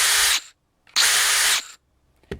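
A DeWalt DCD796 hammer drill runs in two loud, close bursts of high whine, each cut off abruptly as the brake stops the chuck, followed by a brief faint click.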